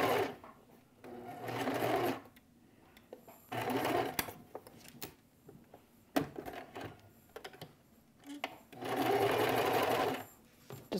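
A sewing machine stitches a quilt block in short, rapid bursts of mechanical whirring, about four separate runs with quiet pauses and light fabric handling between them.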